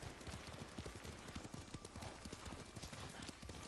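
Horse hooves clip-clop in a steady brisk rhythm while riding in Ghost of Tsushima, close and continuous under a layer of ambient noise.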